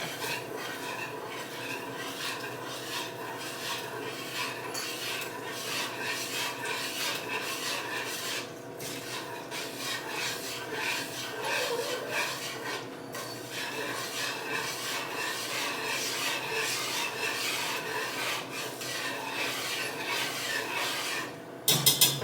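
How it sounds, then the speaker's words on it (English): A whisk scrapes and rubs steadily against a bowl while ingredients are mixed together in a home kitchen, a continuous rhythmic rasping that runs for over twenty seconds with only brief pauses and no talking. "I'm going to go ahead and whisk everything together"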